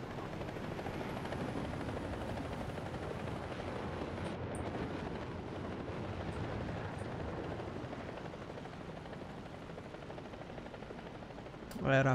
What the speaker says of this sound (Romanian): Mă exasperează elicopterele.